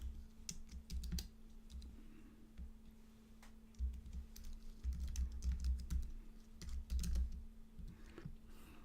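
Steady clicking of a computer keyboard as a username is typed, quick irregular keystrokes close to the microphone with brief pauses, over a faint constant hum.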